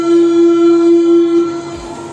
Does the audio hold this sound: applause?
no